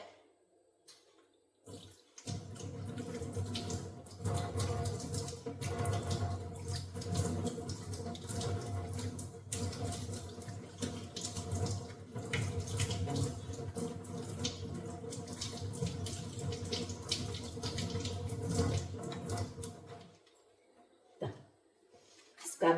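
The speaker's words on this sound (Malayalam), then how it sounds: "സ്ക്രബ് കഴിഞ്ഞു കൈ കഴുകാം നമുക്ക്" Hands being washed under a running tap after a skin scrub, water pouring steadily and splashing for about eighteen seconds with brief quiet gaps at start and end.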